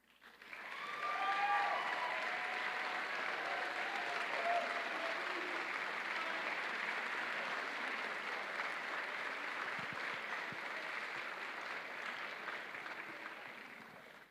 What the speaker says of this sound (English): please stand and receive a round of applause